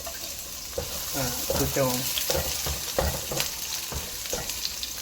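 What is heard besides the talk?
sautéing white onion in a pan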